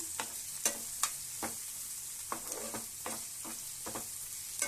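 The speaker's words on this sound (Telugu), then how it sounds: "వీటిని మంచిగా మనం కలుపుకుందాం." Chillies, curry leaves, onions and cumin frying together: soft sizzling under a run of sharp spatula scrapes and knocks against the pan at irregular intervals, close by, with no talk.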